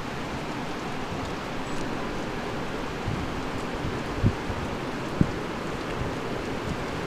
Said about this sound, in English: Yeah, that's a downpour.